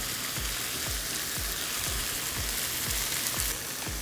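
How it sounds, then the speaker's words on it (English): Loud, continuous sizzling of lemon-pepper-seasoned steak frying in a hot pan, a dense crackling hiss with faint regular low taps underneath, no voices. "Can you hear that sizzle?"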